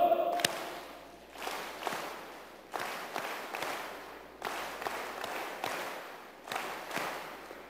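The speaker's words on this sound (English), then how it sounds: "Happy clap, go!" A group of people clapping together on cue in an induction ceremony hall, bursts of unison claps in repeated short rhythmic phrases, fairly loud and reverberant, with no talking.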